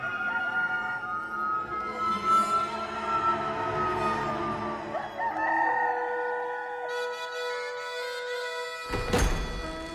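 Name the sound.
rooster crowing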